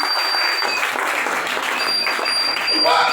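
A church congregation at a worship service applauds to acclaim Jesus, a loud sustained clapping from a crowd filling the room, with voices mixed in.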